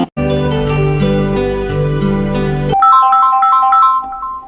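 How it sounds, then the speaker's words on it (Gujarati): A phone plays a loud, melodic electronic ringtone during an incoming call, with sustained chiming chords followed by a quicker run of bright repeating notes, clear and alone. "એ તારા દોસ્ત કિશન ને ફોન લગાય."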